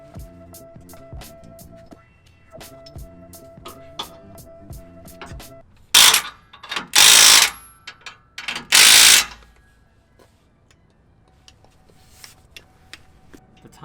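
Ratchet wrench tightening bolts while installing a Moto Fab lift kit on a 2018 Nissan Titan SV 4x4, with light mechanical ticking and clinking, then several loud bursts of rapid ratcheting, no talking.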